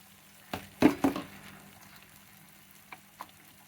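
A spoon stirs rajma curry in a pan, giving a few close scraping strokes in quick succession, then a quieter soft sizzle with two faint later scrapes, all fairly low in level.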